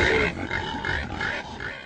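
Pig grunts set as a sound effect in a Romanian audiobook of Orwell's Animal Farm: several close, rough grunts follow one another over about two seconds, with no voices.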